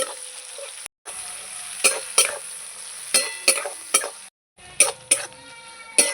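Chopped onion fries in a pan for a chicken curry, a continuous sizzle broken by sharp scraping stirs at uneven intervals and a couple of brief pauses, close and clear.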